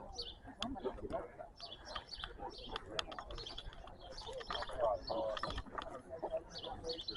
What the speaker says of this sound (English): Birds twittering.